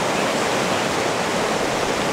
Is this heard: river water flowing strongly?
yes